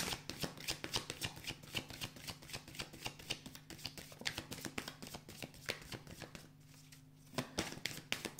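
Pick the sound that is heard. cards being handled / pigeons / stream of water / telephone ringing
cards being handled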